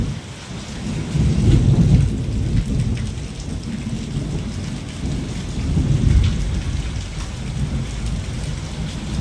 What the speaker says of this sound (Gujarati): હલ્યા કેમ પણ વીજળી છે, હમણાં કડાકો થાય.